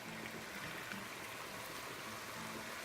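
Lobster stock poured through a sieve into a pan of sauce for lobster spaghetti in a kitchen: a faint, steady trickling stream of liquid, continuous and soft with no talking.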